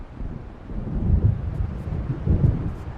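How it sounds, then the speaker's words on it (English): Thunder from an approaching storm rolls over the sea in the Alan Wake video game, a low continuous rumble that swells twice with heavier booms, alongside wind noise and no talking. "It seems there's a storm coming."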